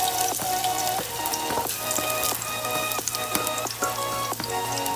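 Garlic sautéing in a hot pan for beef kaldereta gives a steady close crackle, with repeated utensil taps and scrapes against the pan and faint background music.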